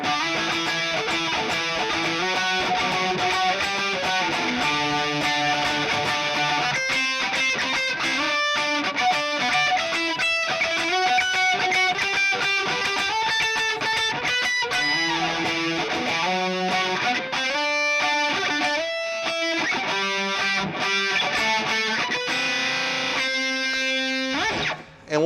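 An electric guitar with distortion plays a continuous phrase of string-skipping double stops, the middle string muted by the picking hand. The lines run for about 25 seconds with no talking.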